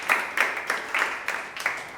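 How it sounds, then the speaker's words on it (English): A small group claps sparsely at an interschool debate competition, roughly seven distinct, fairly quiet claps in a loose rhythm with no voices. "Rotary Jacob, a round of applause for you."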